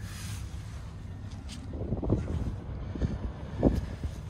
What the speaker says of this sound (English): Right, it is pretty windy